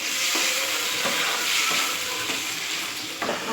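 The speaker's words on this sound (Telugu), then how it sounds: "అందులోనే మనం ముందుగా తయారు చేసుకున్న రొయ్యలు, దీన్ని కొంచెం కలుపుకుందాం." Prawns being stirred into a simmering gongura (sorrel leaf) curry in a pan, with a steady close sizzle and frying hiss under soft scraping stir strokes, no voices.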